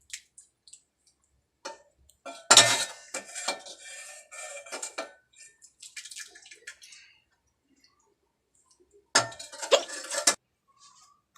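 Clattering handling noises as a basket and a plate are set down while making homemade paneer: one brief burst of knocks and scrapes, softer scattered taps, then a second clatter near the end, close and moderately loud.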